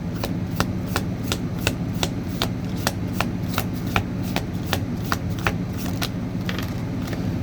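Tarot cards shuffled by hand in a steady run of crisp, rapid riffling clicks, close and fairly loud over a low background hum.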